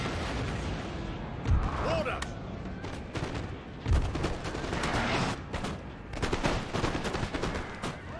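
Cannon and artillery fire in Napoleon: Total War, with two heavy low booms near 1.5 and 4 seconds among a continuous rattle of distant musket volleys and battle din, no clear talk.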